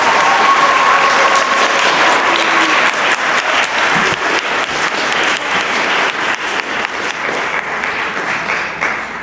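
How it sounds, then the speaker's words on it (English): Steady, dense applause for an eighth-grade middle school promotion ceremony, a full crowd clapping continuously from start to finish with no talk over it. "Give yourself a round of applause."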